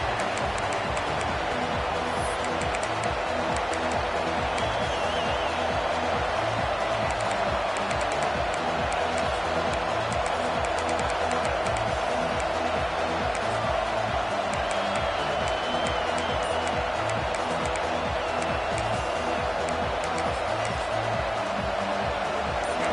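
Stadium crowd at a college football game against USC, a steady dense roar of many voices filling the whole stretch, with no single voice standing out.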